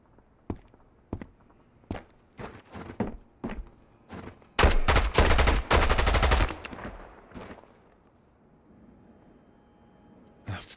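Gunfire in Road to Vostok, in winter mode: spaced single shots ring out close, then a loud sustained automatic burst lasting about two seconds, trailing off into quieter shots.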